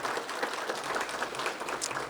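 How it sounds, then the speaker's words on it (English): Short burst of steady applause from the crowd at a community building ribbon cutting, dense and fairly close, with no speech over it. "join me in a little round of applause for them"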